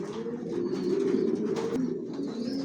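Johnson-line racer pigeons coo steadily in a loft, a continuous low, throaty burbling chorus close by with no talking.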